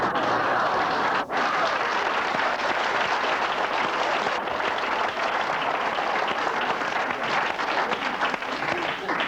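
A 1980s television talk-show studio audience bursts into loud, sustained applause, a thick roar of many hands clapping close and steady for several seconds with no voices over it.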